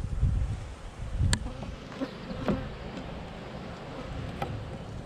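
Honey bees humming around an open hive during an autumn inspection, a steady low drone with a few sharper buzzes of individual bees flying close past.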